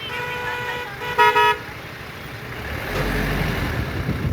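A car horn sounds in a short double blast, honking at a driver littering plastic on a roadside in Kodagu, Karnataka, over steady road and engine rumble.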